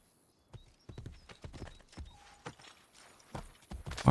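Hooves clop in an uneven rhythm as a horse moves along in the video game Assassin's Creed Brotherhood, fairly close and fading in from near silence.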